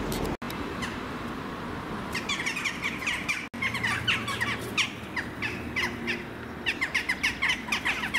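Crows cawing repeatedly in a busy, overlapping chorus over the old ramparts of Beaune, Côte-d'Or, with steady outdoor background noise and no talk.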